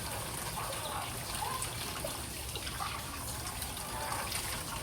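Water runs for washing dishes, a faint, steady trickle and splash, with low background sounds around it.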